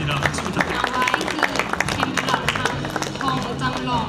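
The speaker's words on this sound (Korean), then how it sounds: "박수" Audience applause at a reception for Korean and Thai athletes, steady scattered clapping from a moderate crowd in a hall, with murmuring voices underneath.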